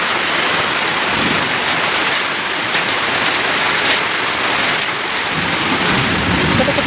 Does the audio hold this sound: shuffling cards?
no